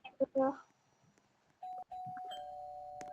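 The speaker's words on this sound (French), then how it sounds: "J'ai sonné à leur porte." A doorbell chimes in the Roblox game Brookhaven, ringing as sustained two-tone notes after a brief spoken interjection, close and clear.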